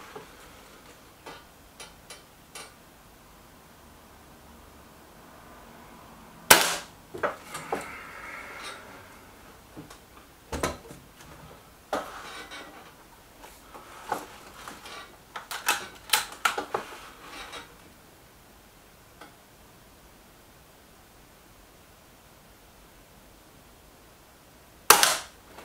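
A series of sharp, dry shots from Weihrauch HW110 and Gamo Boxer air rifles, irregularly spaced over a quiet background, some single cracks and some quick clusters, with the loudest shots near the middle and end.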